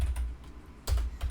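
Fingers tapping on a computer keyboard while entering database code, a couple of quick bursts of keystrokes separated by a quieter pause, close and dry.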